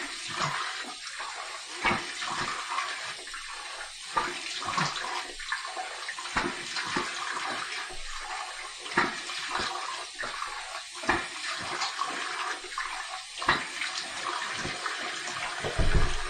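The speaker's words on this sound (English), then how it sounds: "Here's my warm water rinse." Tap water running into a sink for a warm rinse after a wet shave, a steady close splashing stream broken by irregular splashes as hands move through it.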